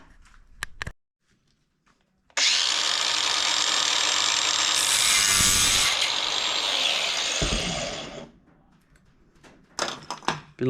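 A power tool cuts through an RC boat's 3/16-inch driveshaft to shorten it, a loud, close, continuous grinding whine lasting several seconds, with light handling clatter before and after.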